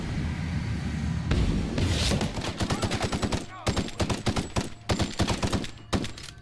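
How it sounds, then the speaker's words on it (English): Rapid bursts of shotgun and other gunfire in The Outer Worlds video game, loud and repeated in uneven clusters, with a voice talking in between. "Shotgun. Do a headshot."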